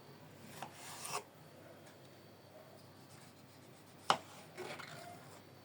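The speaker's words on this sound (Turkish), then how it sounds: "Şimdi salatalıklarımızı bakın şöyle küçük küçük doğuracağız" A knife cuts cucumbers into small pieces for a yogurt meze, giving a few quiet, scattered scraping strokes and one sharper tap against a board.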